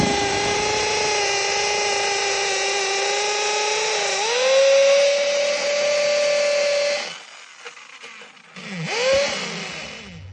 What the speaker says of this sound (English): So let's get that drilled.